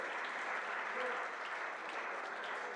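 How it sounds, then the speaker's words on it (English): An audience at a memorial lecture applauds steadily, dense clapping at a constant level throughout, with no voices standing out. "Give a loud round of applause"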